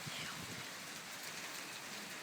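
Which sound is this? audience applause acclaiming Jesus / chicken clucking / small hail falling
small hail falling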